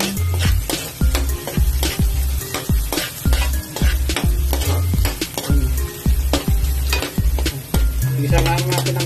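Bay leaf sautéing in hot oil in a pan for bopis, with a steady sizzle under repeated rhythmic scrapes and knocks of a spoon against the metal, loud and close.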